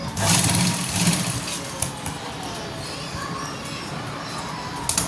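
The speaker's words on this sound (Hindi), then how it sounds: "मैं दूसरी सिलाई लगा के आपको दिखा रही हूँ कि किस तरह से आपको सिलाई लगा।" A sewing machine runs steadily while stitching a seam on a simple suit, a continuous mechanical whir filling the clip from start to finish at moderate loudness, with faint background sounds beneath it.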